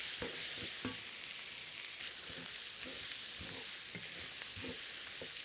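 Pork belly beans with tomato paste sizzle faintly in a pan as a spoon stirs and scrapes at a steady rhythm, soft and close, with no voices.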